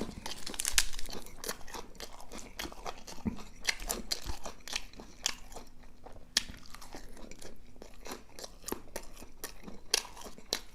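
Crisp, repeated crunches and bites from someone eating a spicy pounded pork-sausage salad with fresh homegrown vegetables, close up and steady, with no talking.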